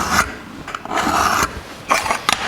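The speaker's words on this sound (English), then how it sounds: "So if I line the edge of the ruler up with the edge of the bracket, we should be in the center, and we'll score that." A metal bump stop bracket for a 1949 Chevrolet gasser is scored along its center line, giving several short close scraping, rasping strokes in uneven bursts with brief pauses.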